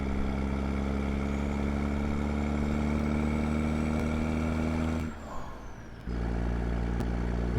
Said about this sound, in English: Listen to the sound of this engine from the external view.